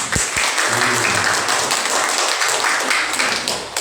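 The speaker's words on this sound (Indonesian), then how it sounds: "Aplaus dong" An Indonesian village audience claps during a village head candidate's vision and mission presentation, a dense, loud burst of applause that holds steady for a few seconds, with no speech over it.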